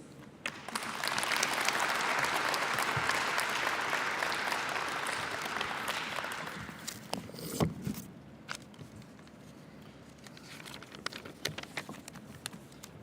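An audience at a 76th Airlift Squadron change-of-command ceremony applauds steadily to welcome the new commander, the clapping swelling quickly, holding for several seconds, then thinning into scattered claps and a few footsteps.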